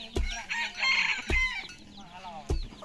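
A rooster crows loudly nearby on a rice farm, with clucking chickens and a few sharp knocks punctuating the sound.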